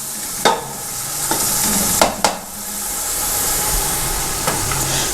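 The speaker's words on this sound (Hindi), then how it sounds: "तो इस तरीके से अब हम थोड़ा सा मसाले को जो है वो भून रहे हैं" Masala fries in a pan with a loud, constant sizzle, broken by several sharp scraping stirs of a spoon against the pan at irregular intervals.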